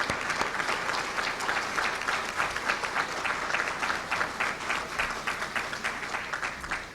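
Audience applause fills a room at a political campaign fundraiser on St. Joseph's Day, a steady, lively clapping with a rhythmic pulse that carries on for several seconds.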